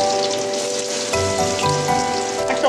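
Potatoes dropped into hot oil already crackling with dried red chillies and a bay leaf, for a Bengali banana-flower curry; a steady close sizzle that turns louder and busier as the potatoes go in, with no talking.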